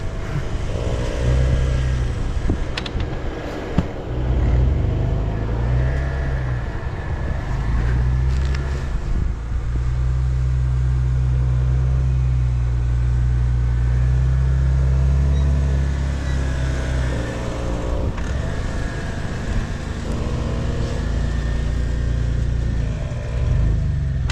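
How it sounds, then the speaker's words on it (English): A Jeep climbing over a log on a snowy off-road trail in British Columbia, its engine droning and revving loudly in surges close to the microphone, with wind buffeting at times and no voices. "Just drive up the log."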